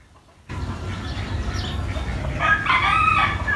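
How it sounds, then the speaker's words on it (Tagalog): Big rooster crowing outdoors in a rural yard, a single drawn-out call rising after a short silence, moderately near, with a faint bird chirp in the background and no talk. "Yung tandang."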